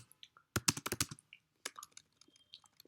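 Quick bursts of typing on a computer keyboard while writing Python code, close and fairly quiet, with clustered keystrokes then scattered single taps.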